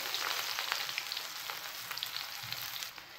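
Mustard seeds, asafoetida, onion, green chilli and garlic frying in hot ghee for a tempering for Lucknow-style toor dal, giving a steady, close, crackling sizzle throughout with no talking.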